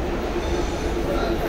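A Pune local train stands at Lonavala station, giving off a steady low rumble and hum of the carriages at close range, with voices chattering over it.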